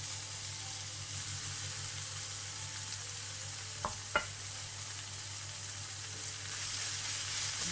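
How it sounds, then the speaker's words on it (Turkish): Steady, quiet sizzle of chopped, squeezed spinach sautéing in a pan, with a low hum underneath and two brief sharp clicks midway. "Şimdi kavuruyorum."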